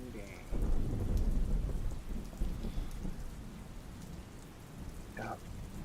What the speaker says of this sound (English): It's a good day to sit back, listen to the rain.